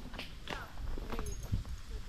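A horse walks uphill under a rider on a trail, its hooves giving soft, close, irregular thuds beneath nearby talking.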